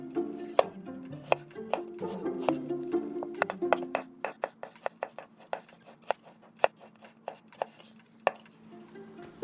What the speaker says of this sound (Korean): 생강은 씹혔을 때 맵지 않을 만큼 잘게 잘라주세요.